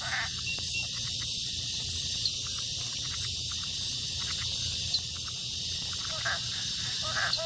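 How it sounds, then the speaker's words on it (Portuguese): Dozens of frog species croaking in a forest at night, a dense honking chorus of calls over a constant high insect-like drone. "A floresta ressoa todas as noites com dúzias de espécies de rãs grasnando à procura de um par"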